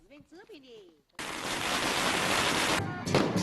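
Fireworks set off to welcome a bride in a Chinese village, a sudden dense crackling barrage that runs loud and continuous after a brief stretch of voices and other sounds.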